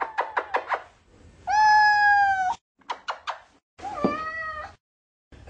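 A cat being handled meows and yowls in close, loud bursts: quick short mews, a long drawn-out wail, more short cries, then another stretched yowl with a pitch break.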